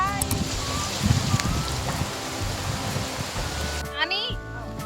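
Storm wind and rain roar steadily outdoors at a relative's home in India, a broad hissing wash with gusts, while a person talks over it.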